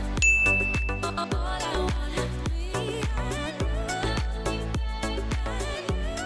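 A subscribe notification bell dings near the start, a bright sustained chime lasting about a second over steady, loud background music with a punchy beat.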